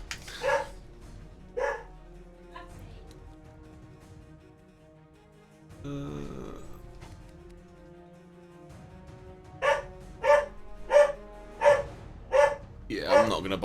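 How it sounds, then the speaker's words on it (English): A dog barks in the background of a gaming stream, a few scattered barks early, then a rapid series of six or seven loud sharp barks near the end, with some talk in between. "Sorry about the dog barking."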